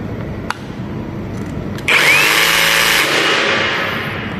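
DongCheng DCMQ85 cordless jigsaw at its highest speed setting, a faint click at first, then the motor kicking on to a loud, steady high-pitched whir that sustains to the end.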